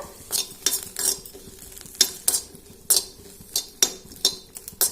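Green chilies being dry-roasted in a pan, with a metal spatula scraping and clinking against it in an uneven rhythm of sharp strokes over a faint sizzle.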